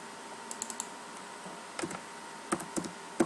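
Code being typed on a computer keyboard: quiet, irregular clusters of key clicks and taps over a low background hum, with a few sharper keystrokes near the end.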